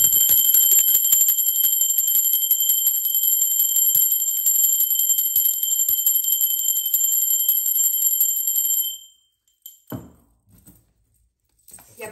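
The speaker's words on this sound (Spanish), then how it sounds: "la campana es una frecuencia muy alta, una frecuencia de alta vibración" A bell rings with a bright, sustained high tone that holds steadily for about nine seconds, then stops abruptly, leaving a few soft handling knocks.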